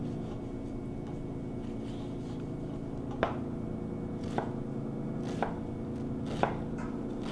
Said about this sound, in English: So we dicing up our onions.